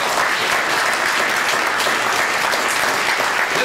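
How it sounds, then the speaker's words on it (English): A large audience applauds at a live talk event, a loud, dense wash of clapping hands that stays strong and even from start to finish with no voice over it. "Clap your hands."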